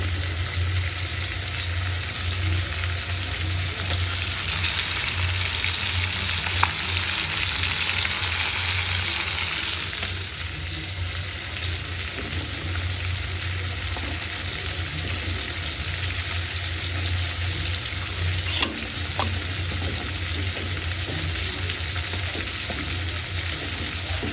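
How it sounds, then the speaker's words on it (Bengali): Rotis, flatbreads, frying in a pan while a chicken masala meal is being made, giving a steady broadband sizzle with a brief louder burst, continuous and close with no talking. "তো আমি আসলে সবগুলো রুটি এভাবে ভেজে নেবো।"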